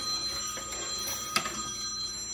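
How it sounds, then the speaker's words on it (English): A telephone rings in a home kitchen while someone bakes peach cobbler, the ring faint and blended into steady background noise, with one brief sharp click partway through. "It's always somebody calling you on the phone when you're busy."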